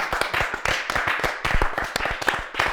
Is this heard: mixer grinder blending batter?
no